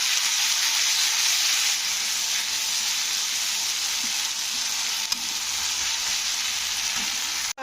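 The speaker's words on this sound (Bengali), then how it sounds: "তো আদা রসুনের পেস্টটা দিয়ে নাড়তে হবে যতক্ষণ না আদা রসুনের গন্ধটা কেটে যাচ্ছে।" Ginger garlic paste frying in a pan while being stirred, an early step for a radish curry, gives a loud, steady, continuous sizzle that holds evenly throughout with no voices.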